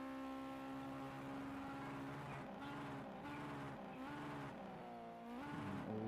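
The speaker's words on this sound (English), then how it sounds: "You can hear that engine roar as he tries to get the car to a stop" Race car engine in the Gran Turismo 5 video game at the Nurburgring, roaring continuously with rising and falling pitch as the car brakes hard, loud and steady with no talk.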